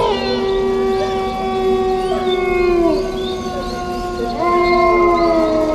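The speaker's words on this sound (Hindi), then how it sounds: "घने काले पेड़ों के बीच से कभी किसी जंगली जानवर के गुर्राने की तो कभी डरावनी आवाजें गूंज रही थी।" Long, eerie wavering howls of a wild canine rise and fall in overlapping tones through a dark forest night, loud and close with no other sounds, like a horror-story effect.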